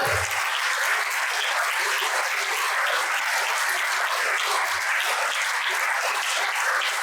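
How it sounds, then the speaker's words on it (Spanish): Steady, dense applause from an audience at a university honorary doctorate ceremony in Guerrero, a continuous crowd of clapping hands holding even and full for the whole stretch with no voices over it. "Un muy fuerte abrazo y un fuerte aplauso a nuestro estudiantado."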